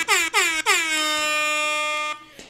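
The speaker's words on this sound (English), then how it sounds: "Is it possible just to play the air horn sound once?" A loud air horn sound effect blares in two short bursts followed by one long sustained blast that cuts off abruptly, with nothing else behind it.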